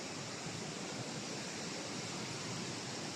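Rushing water from an indoor waterfall in an airport garden rainforest, The Orchard at Hamad International in Qatar, heard as a steady, dense, continuous wash of broadband noise with no voices.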